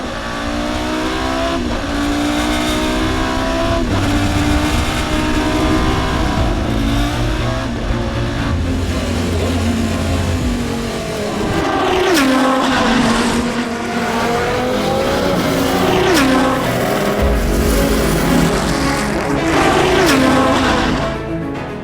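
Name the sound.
race car engine revving at high rpm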